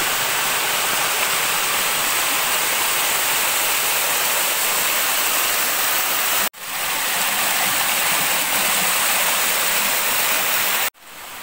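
Kinahulugan Falls in Lagonoy, Camarines Sur, roars as a dense, loud, steady rush of falling water, close by, broken by two brief cuts and with no voices.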